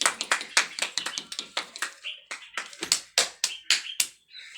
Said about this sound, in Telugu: clap to her